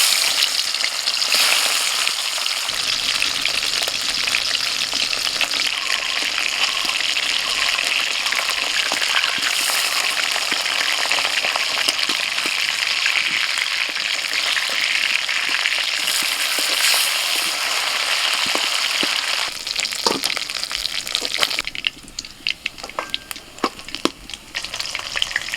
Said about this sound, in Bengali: তেল গরম হয়ে গেছে, এবার একে একে আমি মাছগুলোকে ভেজে নেব।